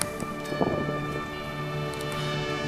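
Rain falls steadily at an outdoor fan fest in Natal, a continuous wash of patter with a faint low rumble and a constant tonal hum underneath.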